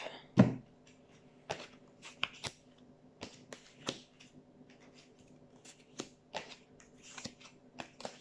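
A small deck of cards being cut and handled up close, with a series of soft, sharp card flicks and slaps spaced irregularly over a quiet background.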